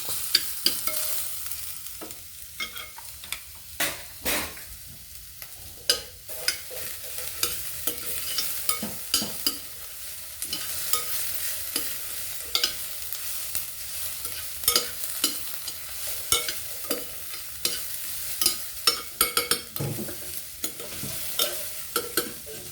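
Green papaya strips stirred and frying in a pan to a half-cooked stage, with a steady close sizzle broken by frequent scraping and clacking of a utensil against the pan.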